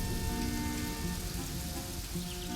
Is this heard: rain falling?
yes